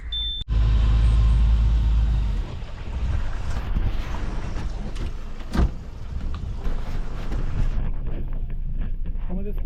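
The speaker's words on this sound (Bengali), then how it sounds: "আমাদের স্পিড বোট রওনা দিয়ে দিল।" A speed boat sets off on water on a foggy day, its loud engine droning steadily under strong wind buffeting, with some voices in the background.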